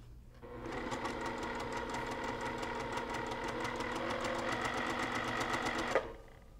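A sewing machine stitches steadily along a line at a normal stitch length of about 1.5 to 2, its fast even needle rhythm running alone for several seconds before stopping with a small click.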